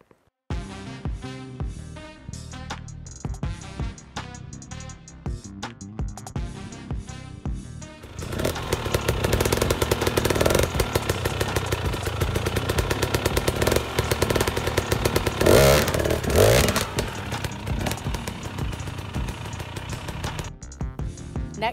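A dirt bike picks its way over a trail obstacle on light throttle and clutch, its engine puttering at first, then breaking into a loud, rough, continuous roar with crackling bursts.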